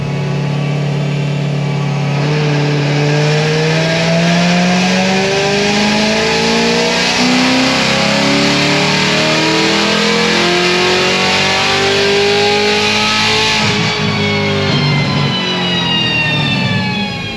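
A modified Corvette C7 Z06 on a dyno makes a full pull, its supercharged V8 climbing in a long, loud rising roar to the top of the rev range before backing off, close and unbroken.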